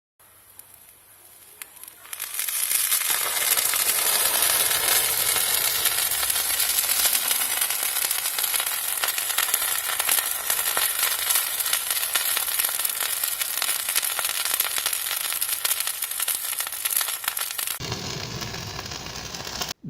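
After a quiet start, a heap of potassium permanganate doused with glycerin reacts exothermically and erupts into a loud, dense, continuous crackling hiss. The hiss holds steady for about fifteen seconds, then cuts off abruptly.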